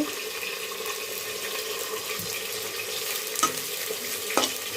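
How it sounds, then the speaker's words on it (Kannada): Onion, garlic and green chili fry in a pan as coconut is added for soybean biryani. A steady, close sizzle runs throughout, broken by a couple of brief scraping stirs. "ಇಲ್ಲಿ ಈರುಳ್ಳಿ ಬೆಳ್ಳುಳ್ಳಿ ಮೆಣಸಿನ್ಕಾಯಿ ಫ್ರೈ ಆಗಿದೆ"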